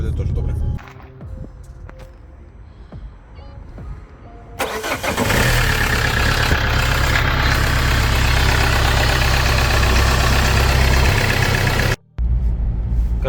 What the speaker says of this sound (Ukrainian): зараз на другу переключусь